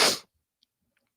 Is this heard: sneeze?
yes